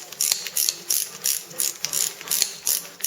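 A hand ratchet snugs down the bolts on a 1937-1954 Chevrolet 3-speed transmission during reassembly. It gives loud, close, rapid clicking in short repeated bursts, with brief pauses as the tool resets between strokes and no talk.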